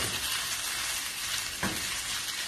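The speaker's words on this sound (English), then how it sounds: "We're putting in the noodles. And we're going to give it a stir." Noodles stir-fried with translucent onions in a home pan give a steady, close sizzle, with a brief scraping stir about two-thirds of the way through.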